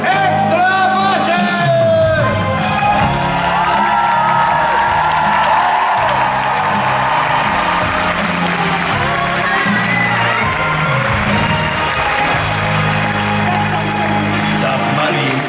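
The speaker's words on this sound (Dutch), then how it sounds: "graag uw applaus voor mijn extra basje!" A crowd at a live farewell show for Samson & Gert applauds, cheers and whoops continuously, loud and close, with shouts and voices layered over dense clapping.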